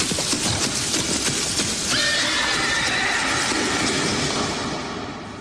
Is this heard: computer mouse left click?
no